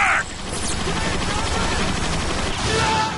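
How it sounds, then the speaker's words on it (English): Rapid gunfire from the Transformers: Fall of Cybertron video game, a dense continuous barrage of small shots rattling under battle noise and effects. "Too many little bullets."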